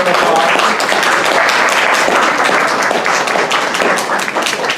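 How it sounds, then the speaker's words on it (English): A comic convention panel audience gives a loud round of applause, dense clapping from a crowd that holds steady and tapers slightly at the end, with faint voices mixed in. "So if you can give her a big round of applause."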